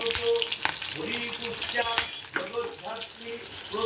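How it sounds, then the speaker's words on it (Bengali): Slit green chillies frying in hot oil, spluttering with sharp pops and crackles over a bubbling sizzle, heard close with a voice talking over part of it. "খুব ফাটছে কাঁচা লঙ্কাটা"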